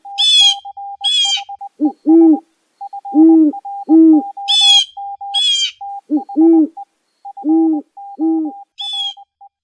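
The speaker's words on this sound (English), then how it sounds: "It's a non-owl, seldom seen but very vocal nocturnal bird, the whippoorwill." A whip-poor-will calls repeatedly at night, its rhythmic three-part whistled phrases clear and close, set against an electronic-sounding steady beeping tone and occasional high chirping bursts.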